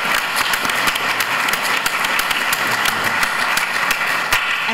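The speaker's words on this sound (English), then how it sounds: "Round of applause." Conference audience applauding after an artificial intelligence panel at a summit, dense steady clapping from many hands, loud and sustained throughout.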